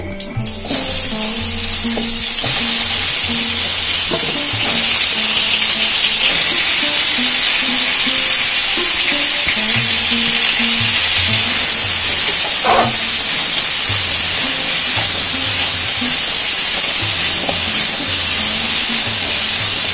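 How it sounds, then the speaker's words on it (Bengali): Potatoes fry with salt and turmeric in mustard oil in a wok, giving a steady loud sizzle that holds for the full stretch with no voices, over a faint low kitchen hum. "এই কড়াইতেই আলুগুলো ভেজে নেব নুন হলুদ দিয়ে।"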